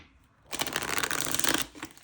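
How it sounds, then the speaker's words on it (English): A deck of tarot cards is shuffled in one rapid, crisp riffle lasting about a second, close and fairly loud. A few softer card taps follow. "One more shuffle."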